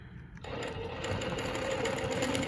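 A longarm quilting machine runs steadily while stitching a Baptist Fans quilting pattern. After a brief quieter start, it settles into a close, continuous mechanical whir with a fast, even stitching rhythm.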